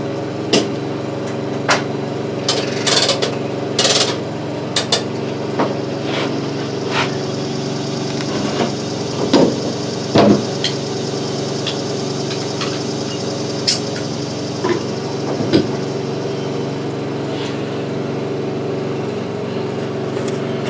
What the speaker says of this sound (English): Now, as you can see, you hear the motor